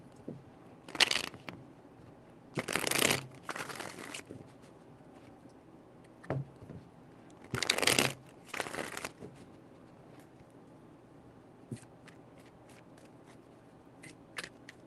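A deck of tarot cards shuffled by hand in short bursts, crisp riffling flutters separated by quiet gaps, then a few lighter taps and flicks, close and fairly soft with no speech.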